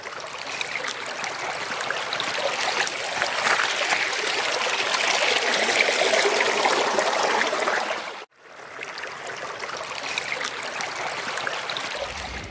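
Steady rushing and trickling of a mountain stream close by as water is filled, a continuous flow with a brief cut near the end, no voices.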